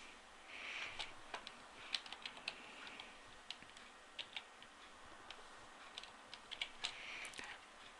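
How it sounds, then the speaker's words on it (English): Fingers tap out a word on a computer keyboard, a quick irregular run of light clicks close by in a quiet room, with no talking. "you key in the word that's in this picture here."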